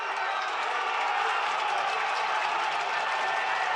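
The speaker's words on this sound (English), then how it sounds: "Crowd have heard something, haven't they?" A Premier League football stadium crowd at Burnley v Newcastle on the final day gives off a broad, sustained roar of murmuring and rising excitement, steady and distant, with no single cheer standing out.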